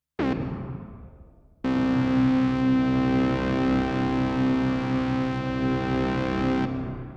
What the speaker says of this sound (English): you can control the pitching and the mix, the pitch there, so the reverb will be down an octave